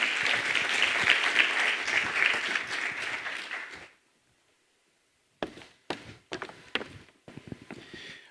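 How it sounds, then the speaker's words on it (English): Audience applause after a youth address by a vice president in Botswana, a dense burst of clapping for about four seconds that stops abruptly, followed by silence and then a few scattered, isolated claps and thuds. "A round of applause again for Dr. Saidi Timono"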